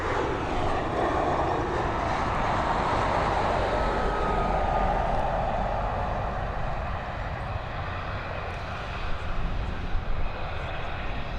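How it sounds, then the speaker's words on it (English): A British Airways airliner landing at Dublin Airport, heard as a steady, loud broadband jet roar that holds throughout and eases slightly toward the end, with no talk over it. "Nice landing there from the BA crew"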